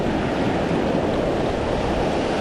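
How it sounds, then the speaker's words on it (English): Ocean waves roll onto a sandy beach in a steady, loud, continuous wash of surf with a constant broadband roar and no talking. "the waves are coming in a little bit harder than I'd like"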